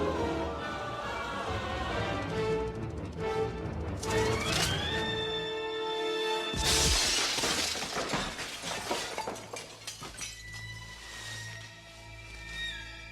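Glass ceiling shattering in a Tim Burton Batman film: a sudden loud crash with cascading, tinkling shards and clinks that trail off over several seconds, set among a dramatic orchestral film score.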